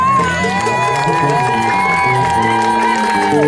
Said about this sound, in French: Merci, applaudissez pour vous-même.